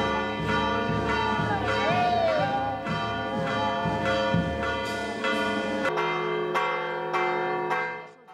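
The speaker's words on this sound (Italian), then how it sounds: "accolta dal suono delle campane." Church bells ring repeatedly in loud, resonant strikes during a religious festival procession in Villafrati, Italy, with overlapping tones and a busy crowd murmuring beneath them.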